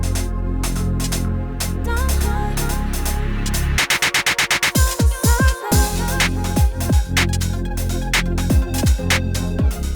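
Electronic music demo track with a steady beat and layered synths, breaking into a stuttering, chopped build-up around the middle before the full drop returns with pounding low hits.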